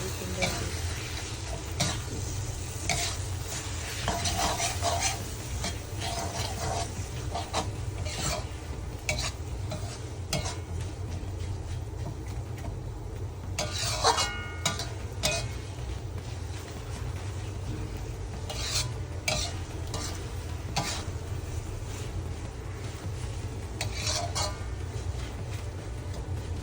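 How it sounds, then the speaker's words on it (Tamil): Fried anchovies (ikan bilis) stirred in a pan, with a steady sizzle and a quick run of scraping and clattering strokes throughout, close and fairly soft, with no talking. "அப்படியே கிண்ட வேண்டியது"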